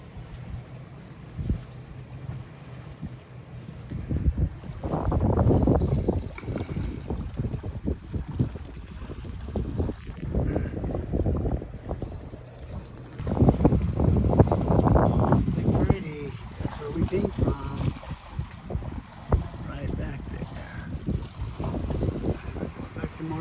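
A sailboat under headsail alone moves through water in a light breeze near Marsh Harbour, with gusting wind buffeting the microphone, water rushing along the hull and surges of louder spray, no talking.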